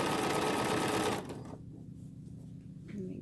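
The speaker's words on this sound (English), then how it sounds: "go ahead and sew the 1/4 inch seam." A sewing machine stitches a 1/4 inch quilt seam with a fast, steady mechanical whir, loud and close for just over a second, then stops, leaving faint handling noise.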